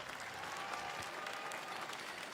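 Scattered applause from a small crowd at a live Summer Game Fest 2024 showcase, a few hands clapping steadily for about two seconds with no talk over it.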